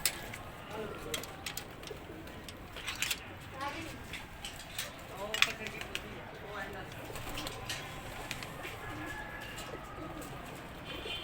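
Pigeons cooing and fluttering among other birds on a rooftop, moderately near, with voices talking in the background throughout.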